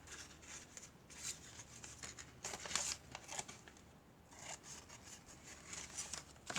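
Scissors cut through paper at close range in a papercraft pocket project, soft crisp snips and rustles coming in short bursts with brief gaps.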